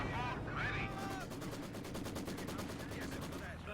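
Maxim machine guns firing in Company of Heroes 2, rapid rattling bursts layered over dense battlefield noise, rumbling explosions and other gunfire, with a voice talking over the continuous din.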